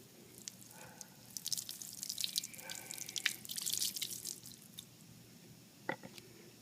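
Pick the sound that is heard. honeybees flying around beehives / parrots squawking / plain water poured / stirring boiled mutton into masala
plain water poured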